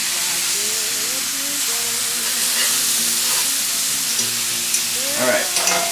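Blackened catfish fillets sizzle loudly in a hot cast iron skillet, a dense continuous hiss with a steady hum beneath and a few sharper spits and crackles near the end, close up.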